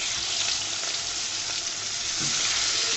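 Fish deep-fries in hot oil with a dense, steady sizzling hiss heard up close, with no voices.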